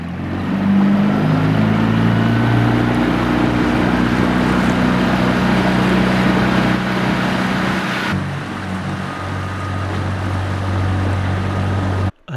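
A tiny AF4 power cruiser hydroplanes across tidal rapids in a BC fjord inlet, its outboard engine droning loud and steady with rushing water and wind noise, the pitch dropping briefly near the end before cutting off.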